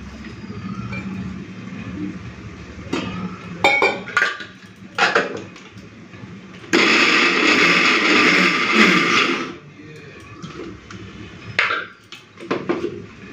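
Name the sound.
grinding potato peels, green chillies and garlic with water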